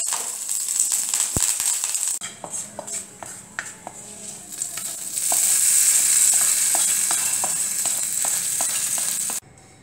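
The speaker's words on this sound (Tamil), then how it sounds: "எண்ணெய் விடுறேன். வெந்தயம், கடுகு, கருவேப்பிலையும் காஞ்ச மிளகாய்," Fenugreek, mustard seeds, curry leaves and dried chillies hit hot oil in a pan, with scattered pops and utensil clicks before a loud, steady hiss of tempering swells up and runs until it cuts off near the end.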